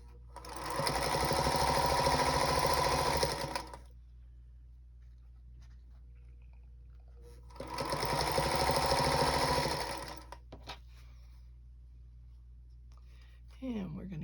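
A sewing machine chain-pieces charm pack quilt pieces, running close and loud in two steady bursts of about three seconds each, with a quiet pause between them.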